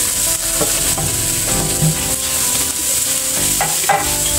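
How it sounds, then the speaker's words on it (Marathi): Spice masala frying in hot oil with crisped curry leaves for besan mas vadi, a steady loud sizzle with scraping stirs and occasional clinks of a spoon against the pan, no voices. "मसाला हे खूप छान जरा फ्राय करायचा"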